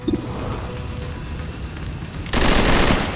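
XCOM 2 gunfire rings out as a sustained loud burst of rapid automatic shots, erupting suddenly after a quieter stretch of game ambience.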